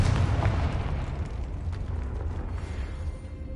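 A Confringo blasting spell in the video game Hogwarts Legacy sets off a loud, deep explosive boom right at the start, and its rumbling roar slowly fades over several seconds.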